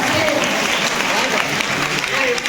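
An audience at a temple celebration applauds, a thick, steady wash of clapping from many hands close by, with a voice speaking over it.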